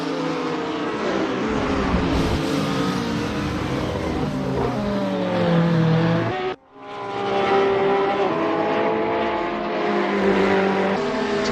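Porsche 911 GT3R race car engine in a racing game at Mugello, loud and continuous, with rising and falling rev sweeps through gear changes and a brief dip before climbing again.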